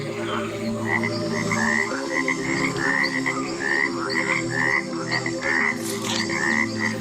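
A chorus of cane toads croaks continuously from a wetland, dense pulsing calls layered over one another at steady loudness, with a brief bright chirp near the end and no voices.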